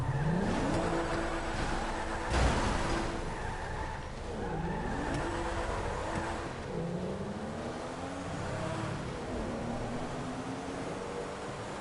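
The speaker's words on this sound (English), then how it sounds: "Alright, I'm gonna take my car." Video game car engine droning and revving with gear-shift pitch sweeps and tire skids, loud and continuous, with a sharp impact near the start; no talking.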